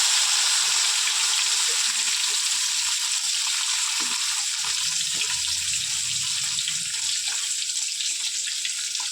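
Fish coated with turmeric, salt and chili fries in a pan, a loud, steady hiss and sizzle of hot oil that continues without a break, with faint clinks underneath.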